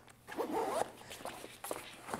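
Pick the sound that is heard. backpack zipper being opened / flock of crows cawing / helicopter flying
backpack zipper being opened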